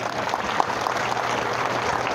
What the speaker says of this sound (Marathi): एकदा बाबूजी करतात टाळ्या.